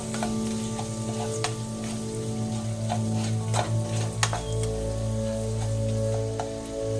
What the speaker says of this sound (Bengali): নিয়ে এটা ভালো করে একটু কষে নেব